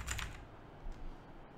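A few soft computer keyboard key presses, including the enter key, click quietly at the start, followed by faint clicks in a quiet room.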